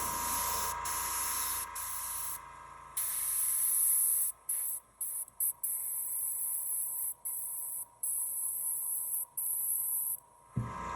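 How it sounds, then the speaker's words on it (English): Paint sprayed onto a miniature base, a close, bright hiss coming in repeated bursts of varying length with short silent gaps between them. "I'm not trying to spray the whole thing"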